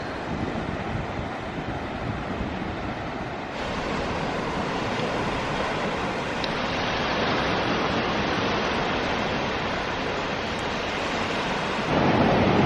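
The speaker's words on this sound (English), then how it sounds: "There's not a lot of surf today, but there's just enough, isn't there, to learn on and to play in." Surf rolls in at Sennen Cove, Cornwall, on a day of small waves: a continuous, close, roaring wash of breaking water with some wind buffeting, steady throughout and growing louder near the end, with no voices.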